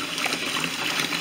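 Tap water runs steadily into a bucket of cleaning solution for deep cleaning a fridge, a continuous close rush of splashing liquid with no pauses.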